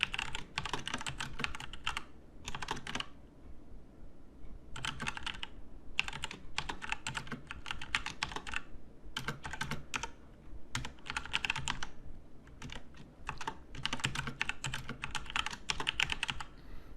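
Steady typing on a computer keyboard during a programming lesson, with quick bursts of close key clicks separated by short pauses, continuing at an even level with no voices.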